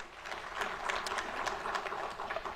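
A business summit audience between Uganda and the United Arab Emirates applauds a sponsor, a moderate, fairly distant wash of scattered clapping lasting a couple of seconds.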